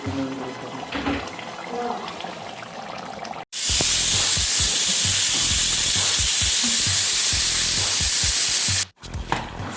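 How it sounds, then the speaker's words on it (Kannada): A pressure cooker cooking chicken biryani lets out a loud, sustained hissing steam whistle lasting several seconds, abruptly starting and stopping between quieter kitchen sounds. "ವಿಷಲ್ ಆಗಿದೆ ಎರಡು ವಿಷಲ್ ಆದಮೇಲೆ"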